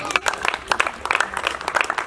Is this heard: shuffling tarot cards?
no